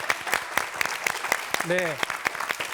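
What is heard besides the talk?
studio audience applause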